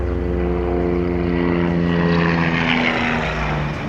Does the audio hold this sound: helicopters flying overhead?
yes